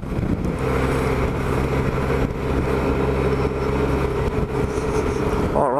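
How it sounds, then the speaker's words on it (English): Several motorcycles from a group bike run pass along a road in a steady, loud engine drone, heard from a Honda Silver Wing scooter, with wind noise mixed in. "we got the bike run there to my right, so I just want to film this bike run for you guys"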